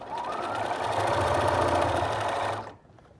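A sewing machine stitches a half-inch quilt seam, running steadily with a fast mechanical whir for a few seconds before stopping abruptly.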